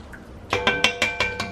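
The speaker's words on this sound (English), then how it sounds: "I'm going to stir it up." A spoon stirs shrimp, corn and crab bisque in a pot, knocking against the side in six evenly spaced metallic clinks that ring briefly, close and clear, after a quiet start.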